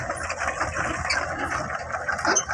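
Small tractor engine idling outdoors near a rice mill, a steady mid-pitched mechanical chug with light rattle, fairly close and continuous for a couple of seconds.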